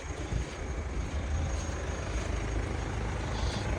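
A 2007 Hyundai Santa Fe 2.2 diesel engine idling while still cold, giving a steady, loud, low rumbling drone with no speech.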